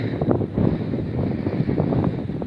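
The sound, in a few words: gusty autumn wind in a field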